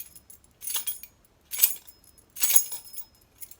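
A set of keys shaken to mimic someone trying to get into a door, three separate bright metallic jangles close to the mic, with quiet pauses between them.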